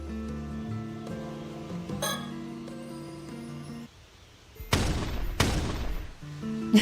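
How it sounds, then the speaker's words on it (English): A couple of sharp gunshot blasts in the video game Paranormasight: The Mermaid's Curse ring out over a background of game music and ambience, loud and close, with a final sharp burst at the end. "The gunshot sounds."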